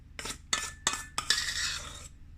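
Banana pudding being mixed and folded with a utensil in a dish, four distinct scraping and clinking strokes followed by a longer soft scrape, close and fairly quiet.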